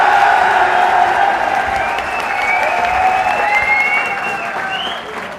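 A crowd of electricity department workers at a street rally claps steadily, a dense, loud wash of applause that gradually thins toward the end, with no speech over it.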